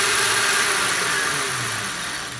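A BLDC motor spins steadily under a 1500W Chinese controller, a loud continuous broadband whir with a low motor hum, running alone without talk and easing slightly toward the end.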